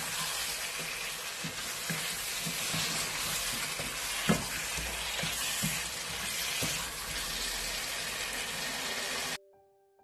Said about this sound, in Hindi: 2-3 मिनट गोश्त के साथ मसाले को भूनूंगी।